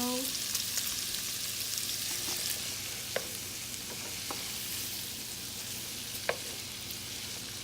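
Onions, green pepper, celery and tomato frying with bacon in a pan give a steady broadband sizzle with a few sharp pops and utensil clicks, close and moderately loud with no talking.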